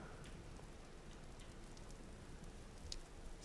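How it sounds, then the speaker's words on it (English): Rain falls in the survival game Vintage Story, a continuous soft hiss of drops on surfaces with occasional faint brighter patters, quiet and even throughout. "Still raining."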